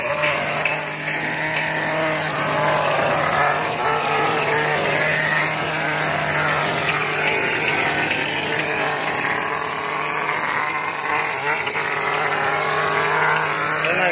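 A plaster spraying machine blasts cement mortar onto a building wall, giving a loud, steady motorised roar with hissing spray that runs unbroken throughout, with no speech.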